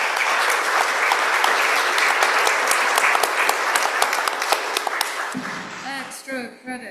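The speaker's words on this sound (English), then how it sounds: "Big round of applause." A large round of applause fills a school board meeting held over Zoom, dense clapping running steadily before tapering off near the end as a voice begins speaking.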